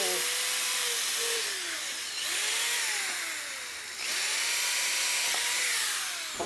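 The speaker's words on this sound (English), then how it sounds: "drill a hole." A power drill bores a hole in a wooden board about three inches from the top, giving a loud, close, steady whine with rising and falling motor pitch as it bites into the wood.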